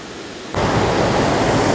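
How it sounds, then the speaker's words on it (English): Rocky Falls, a large waterfall in Ithaca, New York, starts abruptly as a steady, loud broadband rush of falling water that holds constant without any voices. "the big waterfall over here that I showed you before, that is called Rocky Falls"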